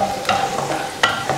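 Finely chopped ginger and garlic are sautéed in hot oil for gobi manchurian, producing a soft steady sizzle broken by a few quick stirring scrapes and clicks.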